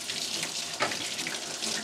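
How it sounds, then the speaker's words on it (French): A water tap is turned on quickly and runs in a steady, moderately loud rushing stream into a sink, with a brief splashy surge partway through. "Mais voilà Garrett qui tourne précipitamment le robinet."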